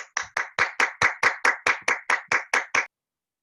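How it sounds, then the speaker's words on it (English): A dozen or so crisp, evenly spaced hand claps at a Toastmasters club meeting, close and clear, sounding like one person clapping in a steady rhythm before stopping abruptly. "Round of applause for DTM Rachel Ferguson."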